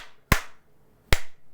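Two crisp hand claps, about 0.8 seconds apart, trigger an original 1984 Clapper sound-activated switch; each is loud and close, with a short tail in between and no talk.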